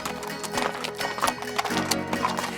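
Horses move slowly at a walk along a mountain trail in the Valfréjus area, their hooves clip-clopping in irregular close taps over stony ground. Quiet voices and rustling sit faintly underneath.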